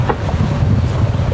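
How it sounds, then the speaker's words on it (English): A wind gust buffets a sailboat running dead downwind, wing on wing, as loud, close, rumbling wind noise that roars steadily over the microphone for a brief moment. "a bit of a gust right now as I'm filming"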